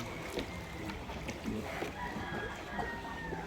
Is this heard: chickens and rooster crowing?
yes